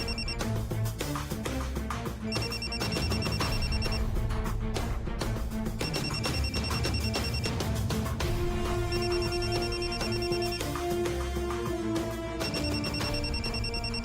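A mobile phone ringtone rings in a room, repeating bright electronic tone patterns in bursts over steady background music, with no talking.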